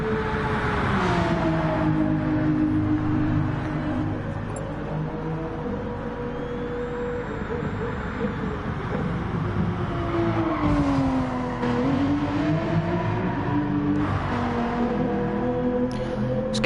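Race cars drifting through a corner at Fuji in a racing video game, a steady layered engine drone with rising and falling revs from several cars, loud and continuous throughout.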